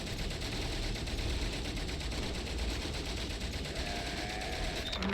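Continuous rapid gunfire from the Great War game Valiant Hearts, a dense unbroken rattle of shots like a machine gun filling the whole few seconds at steady loudness.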